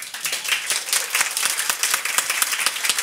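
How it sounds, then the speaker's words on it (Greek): Audience applause for a guest named Alexandros on a Greek talk show, a steady patter of clapping hands that stays fairly even throughout. "Ένα χειροκρότημα για τον Αλέξανδρο."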